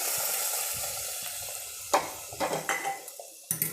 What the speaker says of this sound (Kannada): ಇಲ್ಲಿ ಕರಿಬೇವು ಸೊಪ್ಪು, ಸಾಸಿವೆ ಹಾಕಿ ಒಗ್ಗರಣೆ ಹಾಕ್ತಾಯಿದ್ದೀನಿ